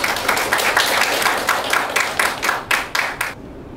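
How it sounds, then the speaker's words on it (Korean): A crowd applauds loudly and steadily at a Korean traditional music awards ceremony in a small hall, the clapping thinning into a few separate claps before stopping abruptly. "큰 박수로 맞이해 주시기 바랍니다"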